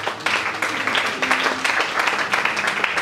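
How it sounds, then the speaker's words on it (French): A church congregation applauds and cheers for Jesus, a steady wash of moderately loud clapping with voices mixed in, continuing without a break. "Acclamez plus fort pour notre Seigneur Jésus-Christ."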